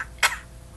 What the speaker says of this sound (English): You should have a hot drink for that cough.